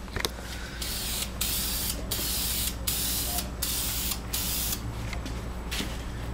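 Black paint sprayed from an aerosol can onto car brake calipers in repeated short bursts of hiss, each a second or so long with brief gaps between, close and fairly loud with no talking.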